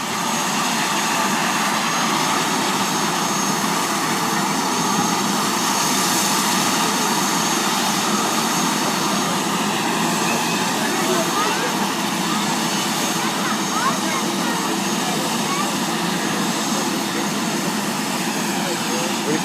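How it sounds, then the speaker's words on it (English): A helicopter with an enclosed tail fin sets down in a city park, its loud continuous rotor and engine drone steady and close for the whole stretch, with voices faintly mixed underneath. "What kind of helicopter is that?"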